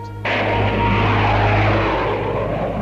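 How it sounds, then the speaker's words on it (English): Planes fly low overhead with a loud, steady propeller-engine roar that swells in quickly and holds close and heavy throughout. "How low they're flying."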